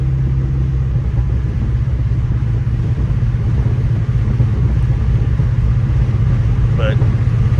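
An LS-swapped Chevy S10 truck with a T56 transmission cruises around town, its engine giving a steady, deep, rumbling drone throughout.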